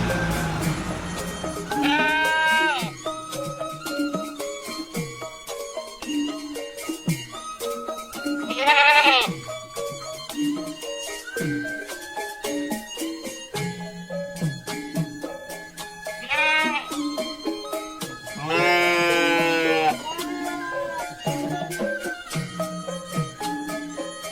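A sacrificial goat in an Ondel Ondel Betawi cartoon for Eid lets out several loud, wavering bleats at intervals, heard over a continuous backing of music.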